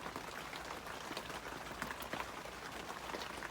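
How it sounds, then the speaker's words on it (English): Steady, fairly heavy rain patters down evenly at a campsite at night, a dense hiss of drops with scattered sharper taps throughout, continuous and fairly close. "Rain just started."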